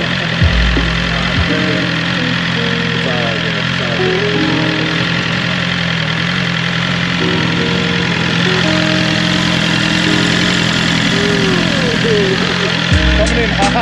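A BMW M1000-RR motorcycle engine runs loud and steady near the listener, with a constant throbbing drone held throughout and people talking over it.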